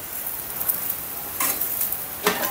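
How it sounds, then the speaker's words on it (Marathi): Paratha roasting with a little oil on a hot pan, giving a steady soft sizzle with brief louder hissing bursts partway through, close and alone. "थोडं थोडं तेल लावून भाजून घेऊया."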